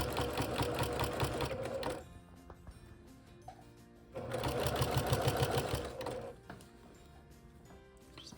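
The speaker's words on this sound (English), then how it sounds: "you can see you can kind of sew it in a straight line like that." A sewing machine stitches through bulky layers of a quilted car seat poncho in two loud mechanical bursts, with quieter handling and clicks in the pause between.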